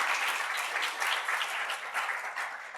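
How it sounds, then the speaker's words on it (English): A lecture audience gives a round of applause for a quiz winner, a soft, steady patter of clapping from a crowd heard at a moderate distance. "Give her a round of applause for winning."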